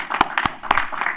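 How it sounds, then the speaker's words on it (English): Brief burst of audience applause for city parks and recreation staff at a proclamation meeting, a handful of clear nearby claps over a thin background of scattered clapping. "Please join me in applauding them too."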